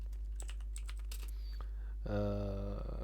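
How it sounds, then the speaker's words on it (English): Quick taps on a computer keyboard as a command is typed, faint and sparse clicks in a quiet room before a steady tone takes over. "just Windows R button to get around, then type shutdown"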